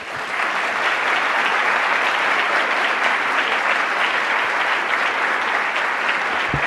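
Sustained applause from a lecture audience in a Seoul amphitheater greeting professor Michael Sandel, steady, dense clapping throughout with no talk.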